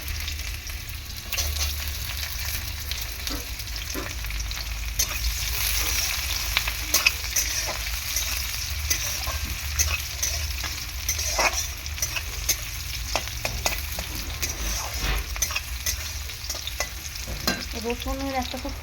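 Garlic sizzles in a hot pan for Bengali kochu shaak (taro greens), with onion added next, a steady close frying hiss broken by repeated scrapes and clinks of a spatula stirring throughout.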